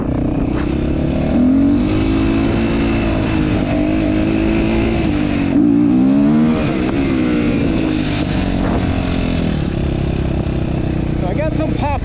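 A GPX FSE300R motorcycle with a retuned OEM Delphi MT05.2 ECU idles and revs, engine note rising and falling in throttle blips while a rider talks over it close up.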